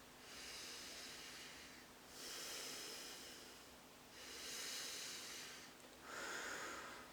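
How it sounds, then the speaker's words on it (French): Slow, soft human breathing, three or four long hissing breaths with pauses between, close and quiet with no talk. "Respiration."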